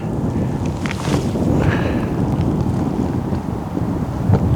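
Headwind gusting across an open disc golf course, a steady broadband rush buffeting the microphone close up and rising and falling slightly over several seconds, with no talk.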